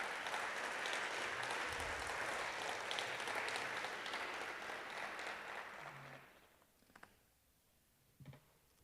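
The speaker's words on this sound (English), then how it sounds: "I think it's always awkward to know how long you should clap or who should clap first" Audience applause for award winners called up on stage, a dense sustained clapping that fades out after about six seconds, leaving a few isolated sounds in a quieter room.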